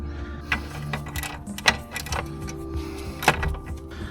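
A ratchet works a bolt on the hub of a Mercedes SL R230 under repair, with a few scattered mechanical clicks and clanks over a low steady hum, close and fairly quiet.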